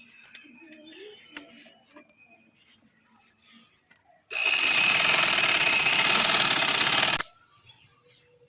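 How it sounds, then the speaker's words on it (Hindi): A sewing machine stitching along the edges of a fabric pillow cover runs in one loud, steady whirring burst of about three seconds, with quieter handling sounds before and after. "तो ये मैं इसके सारे सिरे की तरफ इस तरह सिलाई लगा रही हूँ।"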